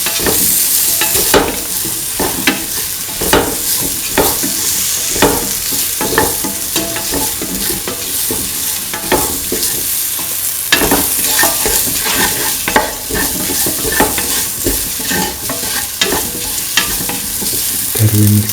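Spices being stirred into frying tofu rice, with a loud, dense sizzle cut by rapid, repeated scraping and clanking strokes of a utensil against the pan throughout, no voices.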